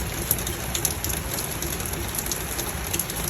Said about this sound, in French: Et oui, il pleut des cordes.